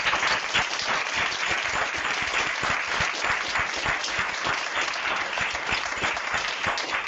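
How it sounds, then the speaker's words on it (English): Students in a school program audience give a sustained, dense round of applause, loud and even throughout with no talking over it. "Students, can we give them a round of applause?"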